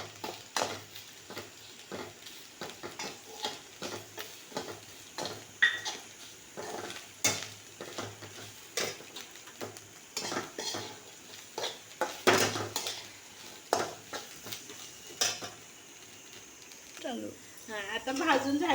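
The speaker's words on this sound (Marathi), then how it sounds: "आता आपलं सुकं खोबरं आहे ना ते पण भाजते." Dry coconut roasting in a pan, stirred with a spoon: repeated scraping and clinking strokes of metal on the pan over a soft sizzle, close up, with someone speaking in between.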